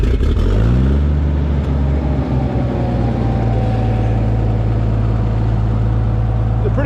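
Engine of a farm rig pulling a disc harrow, throttled up with the clutch in: a loud, close rev that climbs in pitch over the first second, then settles into a steady, heavy drone.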